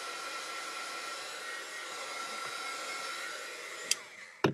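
A heat tool blows a steady, moderately quiet airy whir over wet ink on tape, running evenly for several seconds before a couple of sharp knocks near the end.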